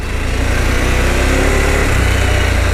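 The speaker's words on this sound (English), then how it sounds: "I'm going to get moving and then I'm going to twist the throttle. That's wide open." A Harley-Davidson Pan America adventure bike accelerates at wide open throttle, a loud, steady engine drone mixed with strong wind rush, close and unbroken throughout.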